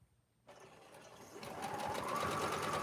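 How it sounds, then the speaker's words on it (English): A sewing machine chain-sews quilt block pieces, starting quietly and then building into a fast, steady mechanical whirring and clatter that grows louder and stays even. "Now back to the chain sewing of the pieces."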